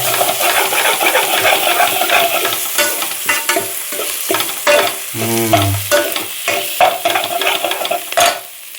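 Crushed ginger and garlic fry for mango biryani, loud close sizzling broken by brisk, uneven scraping stirs of a spoon in the pan, with no voices.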